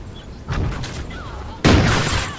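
Call of Duty Ghosts gunfire comes in two bursts, a softer volley and then a loud sudden blast, with players talking over it.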